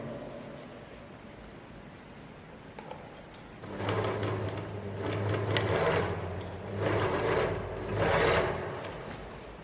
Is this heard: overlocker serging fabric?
yes